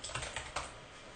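Someone types on a computer keyboard, a brief cluster of quiet, close key clicks in an uneven rhythm, with no talking.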